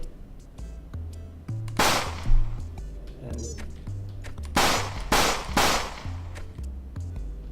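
Gunshots in the retro-style platform shooter Hot Tin Roof, three or four sharp, bright cracks standing out over a steady looping game tune, with one pair fired in quick succession.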